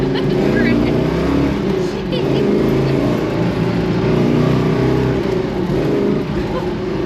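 Big-block Chevrolet Nova engine revving loud and close, a heavy, rough roar held steady with slight dips in pitch, with faint voices underneath.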